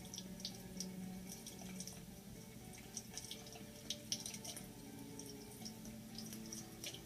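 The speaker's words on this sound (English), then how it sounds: "we want to put our template so that the water's running right in the middle of it, not on top of our image" Tap water runs steadily over a screen printing template in a sink, a faint, continuous splashing hiss with small irregular drips and spatters.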